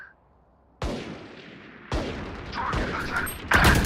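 Video game gunfire cracks out in several loud, sharp bursts separated by short gaps, with mechanical clatter and ringing tails between shots.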